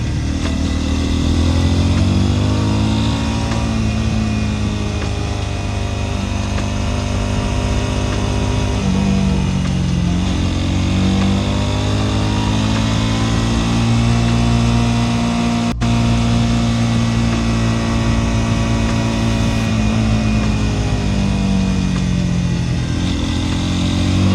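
A motorcycle cruising through Japanese countryside, its engine droning close and steady with rising and falling revs as the rider shifts and accelerates, wind noise underneath.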